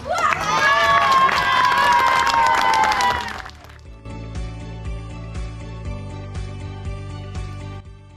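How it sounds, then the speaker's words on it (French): Crowd at a reading-hut inauguration in Tamines applauding and cheering an award: loud clapping mixed with shouts and whoops for about four seconds, then it cuts to rhythmic music playing on its own. "Merci d'applaudir Mich pour l'Oscar de la Truelle d'or."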